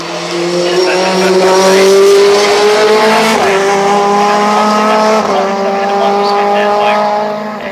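Race cars circuit racing at Oulton Park, loud near engines screaming past with rising and falling pitch as they shift gears and brake, under a race commentator talking throughout.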